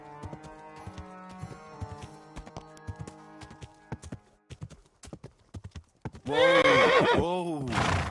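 Hooves clip-clop in a rapid, uneven rhythm as a horse is ridden in Kingdom Come: Deliverance 2, close and clear, followed by a loud, long whinny near the end.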